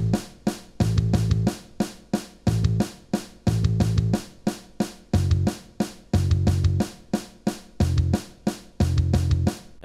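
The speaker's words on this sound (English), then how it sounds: "Now, that is actually doubled up by the bass," Bass guitar from a song locks tightly to the kick drum in a steady, punchy rock pattern, repeated low notes hitting in short bursts alongside the drum throughout.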